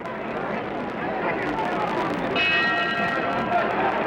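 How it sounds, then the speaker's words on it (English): Boxing ring bell signalling the end of a round in the Muhammad Ali versus Ernie Terrell fight, a bright ringing tone rising over dense crowd noise and a commentator's voice. "That's the bell for round 4."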